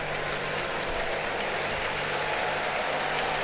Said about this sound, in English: warm ovation from this sellout crowd at Great American Ballpark